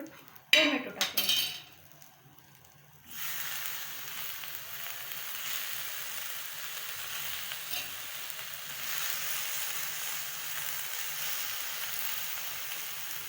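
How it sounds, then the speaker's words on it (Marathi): Onion and coconut roast side by side in a pan while cooking a spicy matki curry: a few sharp metal clinks come first, then a soft, steady sizzle. "एकीकडं कांदा पण भाजला जाईल आपला आणि एका साईडला खोबराही भाजला जाईल"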